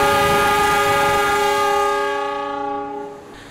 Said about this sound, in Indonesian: di jalur 6 akan melintas kereta api Bangun Karta